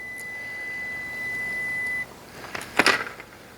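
A multimeter gives a steady continuity beep for about two seconds while testing wires on a Brunswick Vector bowling scoring system, followed by brief handling clatter.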